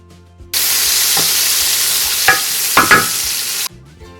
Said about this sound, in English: I'm going to add some butter and saute my veggies.